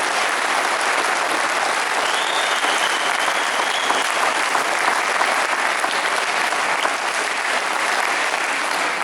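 Sustained, dense crowd applause fills the whole stretch at a political rally in La Garde supporting Ian Brossat's list, loud and steady with no voice over it.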